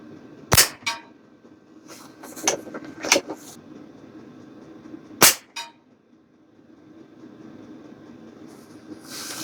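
A Pinty Nightfall .22 regulated air rifle fires at a target, giving several sharp, close cracks spaced irregularly, a few followed by fainter metallic clangs, over low background hum.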